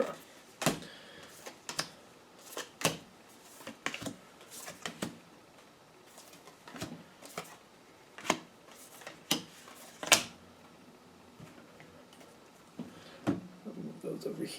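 Tarot cards are handled and picked up from a table, making a series of sharp taps, flicks and soft shuffling clicks, irregular but close, with a person talking quietly in between.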